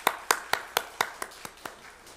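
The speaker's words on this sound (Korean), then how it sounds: "우리 다시 한번 큰 박수로 하나님께 영광 올려드리겠습니다." Church congregation clapping during a Sunday worship service, heard as about nine sharp, evenly spaced claps in a quick rhythm that fade slightly toward the end, with no talk over them.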